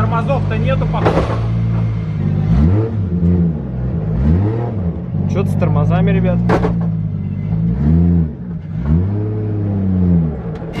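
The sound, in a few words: Toyota 2JZ engine car accelerating with antilag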